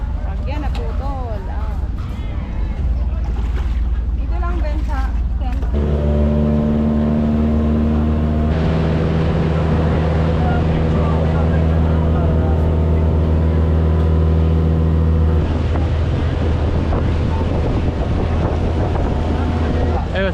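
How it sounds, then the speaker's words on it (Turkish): A tour boat engine hums steadily as the boat approaches in El Nido, Philippines, growing into a sustained drone with wind buffeting the microphone and speech in the background. "bizim teknemiz yanaşıyor"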